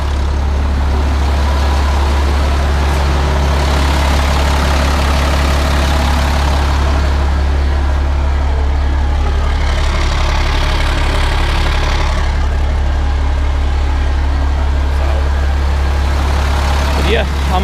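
A white chipper truck's engine idles steadily in a shop, a constant low drone filling the whole stretch with no break.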